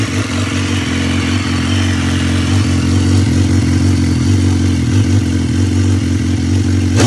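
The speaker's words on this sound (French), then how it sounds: "Vous pouvez admirer ce pot Scorpion qui fait un vrai bruit de démon." BMW S1000R motorcycle fitted with a Scorpion exhaust, its engine running loud and close with a steady, rough, throbbing note and a hint of revving throughout.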